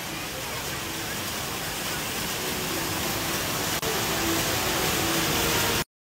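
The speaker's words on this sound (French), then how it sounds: "il s'agit de la chute d'eau intérieure la plus haute au monde" The world's tallest indoor waterfall, inside Singapore's airport, pours down as a dense, steady, hissing roar close by for about six seconds before cutting off abruptly, with no voices.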